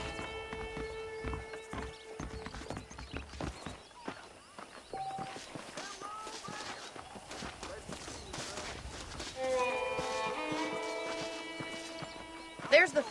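Horse hooves clip-clop at a steady walking rhythm while riding in Red Dead Redemption, moderately close, heard under ongoing game music and a man's conversational speech, with a brief whinny.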